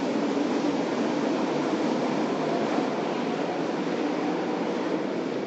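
SkyTrain rolling through New Westminster Station, a steady broad rumbling roar with constant hiss, loud and even for the whole stretch with no distinct clacks and no voices.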